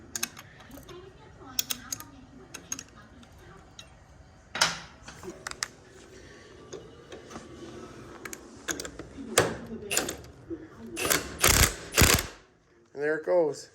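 Ratchet snugging nuts on a Harley 4-speed clutch hub, a series of short clicking bursts in uneven rhythm, close and fairly clear, with faint mechanical handling noises between strokes.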